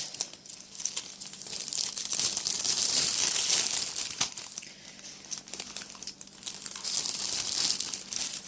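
A packaging bag for bath truffles crinkles and rustles as it is handled, with bursts of crisp crackling rising and falling in two main waves amid quieter handling noises.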